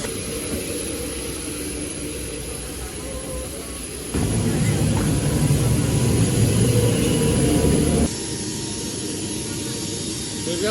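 Inside a Philippines Air Force C-130 military transport plane in flight, a loud constant roar of turboprop engines and cabin rumble fills the whole stretch, swelling louder in the middle section, with no voices.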